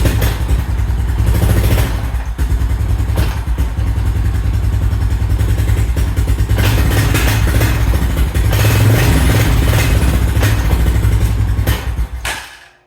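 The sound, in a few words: 2000 Honda Foreman 400 4x4 ATV engine idling, warming up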